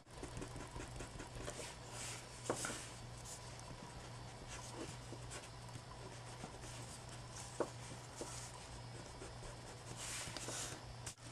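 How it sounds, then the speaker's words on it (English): An eraser rubs pencil marks off a paper chili pepper craft, giving a continuous soft scratchy scrubbing close by, with a steady low hum underneath. "So now I got to erase my pencil marks."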